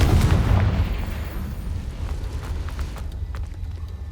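A Confringo fire-blast spell detonates in Hogwarts Legacy, a loud booming explosion with a heavy low rumble that tails off into crackling debris over a few seconds.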